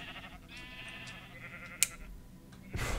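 Sheep bleating in the video game Minecraft, heard as faint, brief calls within a busy game soundscape, with a louder burst of noise near the end.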